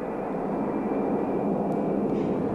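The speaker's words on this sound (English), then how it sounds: "the B-52 finally began to taxi toward the end of the runway" A B-52 bomber taxis toward the end of the runway, its jet engines producing a steady, unbroken roar that holds at an even level throughout.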